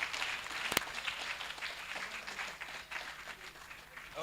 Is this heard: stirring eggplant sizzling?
no